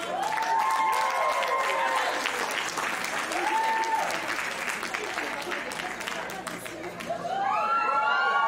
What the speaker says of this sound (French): Bonne main d'applaudissements, Mélina.